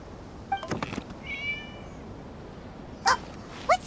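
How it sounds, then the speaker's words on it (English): A cat in the video game Genshin Impact meows several times, short faint calls spread across a quiet scene, with a fuller pair of meows near the end; no one talks. "It was just a cat."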